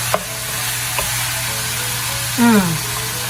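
Beef browns in a pan with a steady, loud sizzle and frying hiss, with a few brief clinks of stirring and a short tonal squeak near the end.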